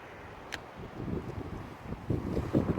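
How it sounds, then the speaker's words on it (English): Steady wind buffets the microphone with a low rumbling roar that swells and gusts, no voices present. "Might be a bit windy."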